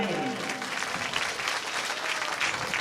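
A crowd at a Shrimad Bhagwat Katha in a temple claps in sustained, dense applause throughout, with a voice faintly audible underneath.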